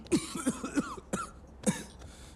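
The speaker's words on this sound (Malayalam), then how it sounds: "ചുമ." A few short, dry coughs in quick succession, close by, followed by a throat clear, with no speech.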